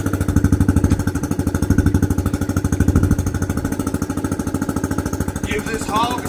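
An off-road vehicle engine idling as it warms up, a loud, close, rapid pulsing thump that stays steady throughout.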